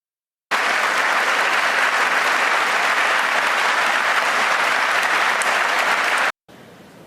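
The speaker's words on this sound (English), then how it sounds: "And then people applauded" An audience breaks into loud, dense applause that holds steady for about six seconds, then cuts off abruptly, leaving a fainter tail of clapping.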